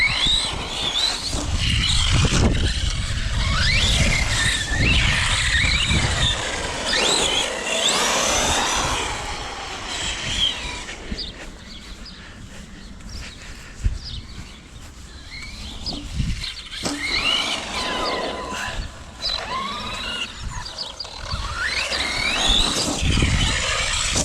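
Arrma Kraton 4S V2 RC car with a Chinese 4074 2200kV motor, its tires squealing and skidding in repeated loud chirps over a constant high motor whine, near and energetic for most of the run.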